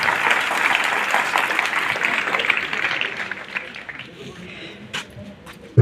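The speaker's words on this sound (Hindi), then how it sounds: "जोरदार तालियों से स्वागत होना चाहिए जी" Audience at a college award ceremony breaks into applause, a full round of clapping that fades gradually over a few seconds into quiet room noise, with a dog barking faintly in the distance.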